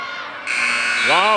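A loud, steady electronic buzzer ends a wrestling match period over crowd noise, and a voice rises briefly near the end.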